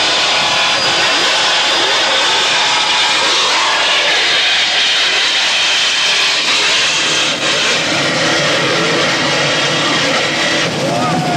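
A big 41-foot Apache offshore racing powerboat runs at full throttle around 90 miles an hour, a loud, continuous roaring engine drone with rough surging, steady from start to finish.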